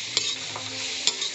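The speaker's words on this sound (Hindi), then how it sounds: "टमाटर डाल के चलाएंगे।" Tomatoes are stirred into turmeric potatoes frying in a pan, giving a steady hiss and sizzle with two sharp scraping taps of the spoon, close and without speech.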